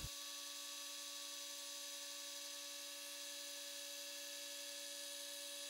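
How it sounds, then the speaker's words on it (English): A small belt grinder fitted with an 80 grit belt runs for the whole stretch, a steady, faint, high motor whine with no breaks and no audible bursts of sanding. "I took it to my new little baby grinder that has an 80 grit belt on there, and it just blasted through the wood"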